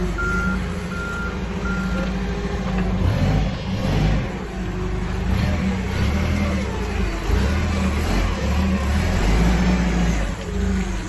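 A forklift engine runs steadily while the machine backs up, its reversing beeper sounding repeatedly over the loud, continuous motor drone.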